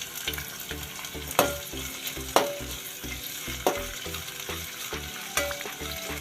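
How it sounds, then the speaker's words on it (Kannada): Curry leaves and green chilies fry in a pan, a close, steady sizzle with a few sharp clinks of a spoon against the pan, over soft background music and without speech. "ಲೈಟಾಗಿ ಫ್ರೈ ಆಗಬೇಕು."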